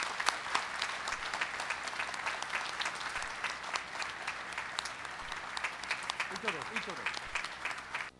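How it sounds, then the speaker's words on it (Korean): Sustained, loud applause fills a university graduation ceremony hall, a dense steady patter of many hands clapping throughout, with a voice speaking briefly near the end. "뜨거운 박수로 맞이해 주시기 바랍니다"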